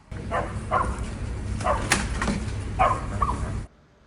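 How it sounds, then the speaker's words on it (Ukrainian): A corgi search-and-rescue dog barks at collapsed building rubble, several sharp yips and barks in irregular bursts, fairly close, before the sound cuts off abruptly. "він активно махає хвостом та гавкає"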